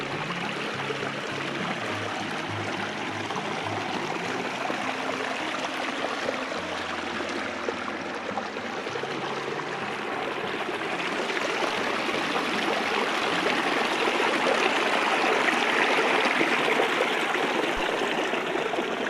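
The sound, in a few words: creek water flowing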